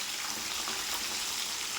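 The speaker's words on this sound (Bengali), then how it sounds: "গ্যাসটা লো করে আমি মাছটা ভাজছি" Fish frying in a pan over a low gas flame, a steady dense crackling sizzle holding evenly throughout, close and continuous with no talk.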